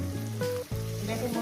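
A Bengali fish curry with vegetables bubbles and sizzles loudly in a pan after the water from rinsing the spice bowl is poured in, a close, continuous frying hiss with a brief dip midway.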